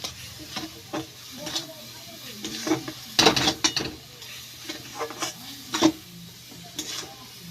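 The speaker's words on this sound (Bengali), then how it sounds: "খুন্তি দিয়ে নাড়তে নাড়তে প্রায় শুকনো করে নিয়েছি" A spatula scraping and stirring a thick, nearly dry kalakand milk mixture in a pan, rhythmic scrapes and knocks against the metal with faint sizzling between strokes.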